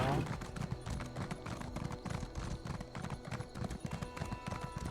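Rapid, rhythmic clip-clopping of horse hooves at a brisk pace in the video game Elder Scrolls Online, steady and close, with faint background tones.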